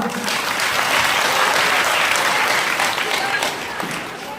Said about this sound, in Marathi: स्वतःसाठी एकदा टाळ्या